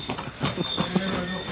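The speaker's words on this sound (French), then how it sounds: "Les gars, les fameuses ânes là de Santorini." Donkeys on Santorini, used to carry cement, walk past with their hooves clopping in a quick, uneven patter close by, mixed with outdoor background noise.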